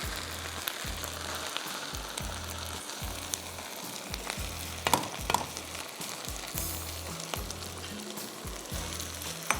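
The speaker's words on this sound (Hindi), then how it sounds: "भुनाई करेंगे और इसमें हम 4 चॉपराइज्ड या ब्लेंडेड टमाटो डाल देंगे" Chopped or blended tomatoes frying in a karahi give off a steady, close sizzle, with stirring scrapes and low thumps repeating at a regular rhythm throughout, and no voices.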